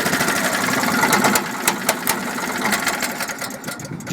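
A small engine runs on choke with a fast, buzzing mechanical clatter, steady and close. A few sharper knocks punctuate the rhythm before it eases slightly.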